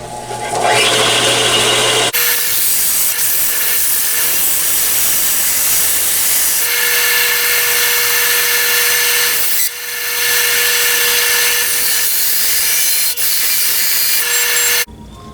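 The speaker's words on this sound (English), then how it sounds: "let's get a little sanding done here" A power sander whines and hisses loudly and continuously up close on parts of an RC control-line model airplane, briefly cutting out and restarting partway through.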